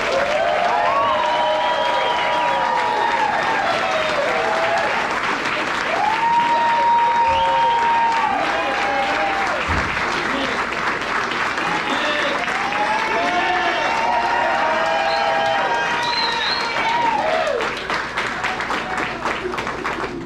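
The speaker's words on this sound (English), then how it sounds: "Let's give the class of 2023 a round of applause" A graduation crowd at KSB applauds and cheers for the class of 2023, a broad continuous wash of clapping lasting about twenty seconds, with music or tonal voices rising and falling over it.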